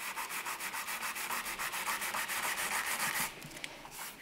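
Old filler stopper is sanded off a model by hand, a close rhythmic rubbing of repeated scratchy strokes that speeds into a steadier scrub before easing off near the end.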